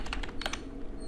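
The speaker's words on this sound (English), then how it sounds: "you need to type the command pip install notebook" Typing a command on a computer keyboard, a quick run of close, crisp key clicks in two short bursts.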